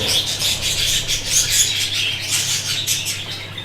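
Breeding birds in cages, including English-type birds being separated into pairs, chirp and tweet in a busy, continuous high-pitched chorus close by, with no talking over it.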